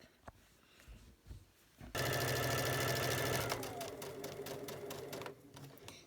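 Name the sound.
sewing machine stitching quilt binding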